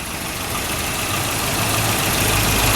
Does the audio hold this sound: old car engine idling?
yes